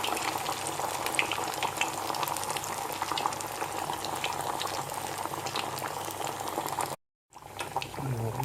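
Pinwheel samosas frying in oil over medium heat, a dense, steady bubbling sizzle close by with faint clicks, briefly cut to silence near the end before resuming.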